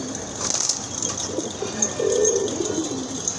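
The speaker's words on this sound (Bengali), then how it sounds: "খুবই সুন্দর এক জোড়া কবুতর" A pair of pigeons cooing softly amid a busy, noisy background hum, with a steady murmur of ambient sound throughout.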